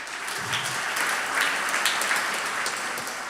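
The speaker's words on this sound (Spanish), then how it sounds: "Dele un aplauso bien fuerte al Señor" A church congregation claps steadily, a dense wash of applause with no breaks, heard from within the room at moderate volume.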